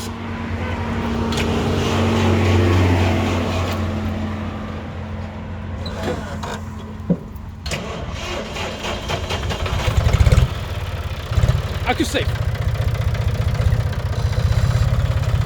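A John Deere tractor diesel engine running, a steady low rumble that idles and then revs with louder surges, with some people talking over it.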